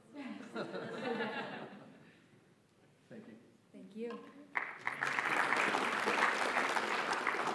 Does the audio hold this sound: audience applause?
yes